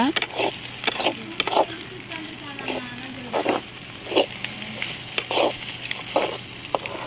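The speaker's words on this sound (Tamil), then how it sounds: "இப்படி நல்லா வதக்கிக்கோங்க" Egg podimas sizzles as it is sautéed in a pan, a steady frying hiss broken by repeated close scraping knocks of a spatula, with a voice talking over it.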